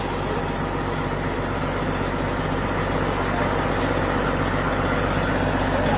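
Buses idle steadily while people load them to leave Minneapolis, a loud, continuous low engine rumble with no breaks and no voices.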